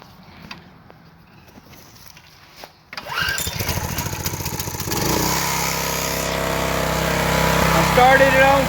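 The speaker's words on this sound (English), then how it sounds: "So let's fire it up and see if it'll run off of choke like it's supposed to now." An old Craftsman pressure washer engine is pulled over and starts on choke, catching with a sputter and then running at a steady, loud mid-pitched drone up close, while a person talks nearby.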